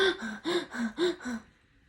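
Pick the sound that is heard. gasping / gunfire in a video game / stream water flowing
gasping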